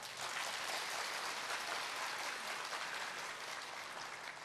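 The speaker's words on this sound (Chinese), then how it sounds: "係咪好值得我哋為佢鼓掌啊？" An audience at a Cantonese opera concert claps in continuous, dense applause that stays evenly loud throughout, with no voices over it.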